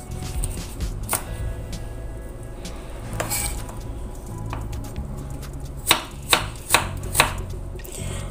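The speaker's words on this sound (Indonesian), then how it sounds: "setelah kita iris wortelnya seperti ini" A knife cuts carrots into small pieces on a board for vegetable fritters, tapping and scraping at a loose pace. The cuts end in four sharp, evenly spaced chops close up, with faint utensil clinks and no talk.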